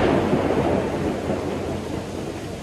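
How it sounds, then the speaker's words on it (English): Heavy rain pours steadily outdoors, a dense, constant roar of falling water with a faint low rumble underneath, filling the scene without any voices. "It's raining like a motherfucker outside."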